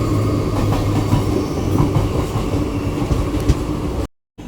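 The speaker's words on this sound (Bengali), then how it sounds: "এখন ট্রেন এসে দাঁড়িয়েছে" A passenger train running from Kolkata's Sealdah toward Darjeeling pulls into Naihati Junction with a loud, continuous rolling rumble and faint clattering of wheels over the rails, ending in a brief cut.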